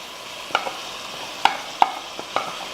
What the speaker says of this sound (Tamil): இப்போ சும்மா வதக்கிக்கலாம். அந்த சிக்கன் வதங்கி கொஞ்சம் எண்ணெய் வரட்டும்.